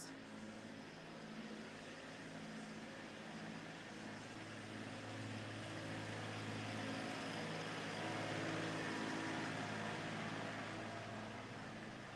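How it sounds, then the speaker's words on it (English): Heavy trucks rumble past on a city street near a museum extension, a steady low engine drone that swells and fades over several seconds with no talk. "Noisy trucks."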